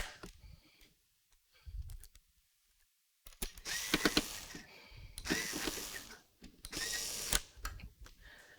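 A powered screwdriver drives the last two screws to mount a computer cooler bracket, giving several short whirring bursts with ratcheting clicks between quiet pauses, close and moderately loud.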